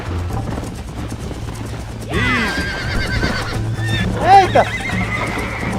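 Horse neighing and whinnying in Red Dead Redemption 2, with a couple of shrill calls over a steady game backdrop, joined by a faint clip-clop of hooves while a person talks.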